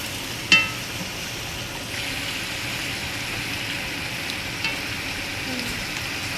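Frozen spinach goes into a pot of bitter leaf goat sauté with a brief clatter, followed by a steady soft sizzle and faint stirring.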